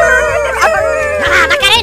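A dog howling and yelping up close, its drawn-out wavering cries running the whole time, mixed with overlapping human voices.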